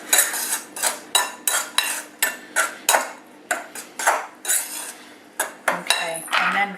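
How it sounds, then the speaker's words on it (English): A knife stirs sugar and sultanas into a Welsh cake mixture in a bowl, giving a steady run of sharp, regular clinks and scrapes against the bowl, close and fairly loud. "I'm going to add my sugar and the sultanas and give them a bit of a stir with a knife"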